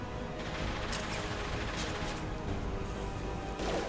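Dense, continuous gunfire in Mass Effect 2, a steady roar of overlapping shots and crashes at moderate loudness with no clear pauses.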